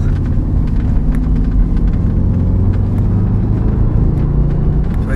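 Audi RS4 engine droning steadily from inside the cabin while driving, a continuous low rumble with no clear rev peaks, no voices.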